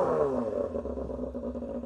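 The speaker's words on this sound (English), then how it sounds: "Let's give it a rev." A restored Kawasaki Balius motorcycle engine revs up close, a loud rising then falling rasp settling into a rough, throbbing idle.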